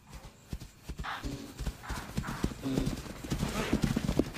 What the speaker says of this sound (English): Her heavy footsteps flush the herd towards the catcher.